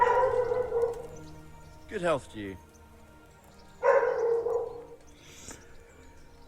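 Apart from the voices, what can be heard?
dog barking in the room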